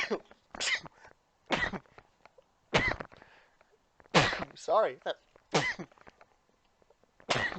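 A person lets out a sudden close sneeze partway through a video game session, mixed in among other loud bursts and short spoken remarks.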